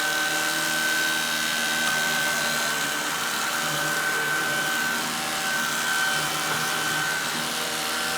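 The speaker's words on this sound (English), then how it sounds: "Here's the cordless vacuum that I'm using." Shark cordless vacuum cleaner running on carpet in carpet mode, a steady whirring motor drone with a thin high whine, constant and fairly quiet, uninterrupted over several seconds.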